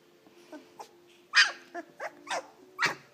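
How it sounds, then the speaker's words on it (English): A 17-day-old German Shorthaired Pointer puppy in a dog bed lets out several short, high yaps and whimpers at irregular intervals, close by and alone. "one you haven't seen yet, sitting down here, just gave a yap"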